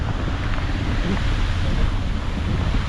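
A waterfall in the provincial countryside, near a skyway bridge and a broken fence, pours in a steady broadband roar mixed with wind buffeting the microphone.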